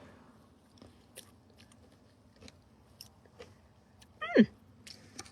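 Quiet, scattered crunching bites of maple sugar on snow, then a louder crunchy chew near the end, close up with no talking.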